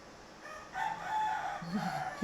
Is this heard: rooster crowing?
yes